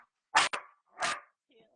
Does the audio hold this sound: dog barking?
yes